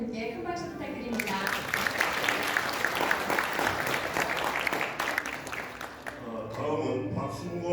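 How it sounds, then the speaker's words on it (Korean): Audience applause at a launch ceremony held in Korea, a dense sustained clapping that swells after the first second and carries on steadily, with a voice talking over it near the end. "박정희 대표님께 큰 박수 부탁드립니다."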